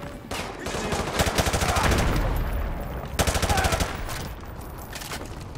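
Machine gun fire in Call of Duty: Modern Warfare 2 (2009) Remastered on PC, with loud, rapid automatic bursts in two long volleys, close and dense, plus faint voices underneath.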